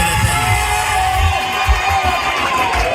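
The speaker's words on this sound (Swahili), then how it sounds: "Safi kabisa, vigelegele." A church congregation fills the space with loud, continuous ululation and excited shouting, a dense crowd sound with thumping beats underneath.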